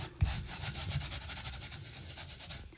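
Soft, rhythmic scrubbing as vermiculite repair paste is rubbed by hand into the surface of a wood stove panel, faint and close, with a small knock at the start.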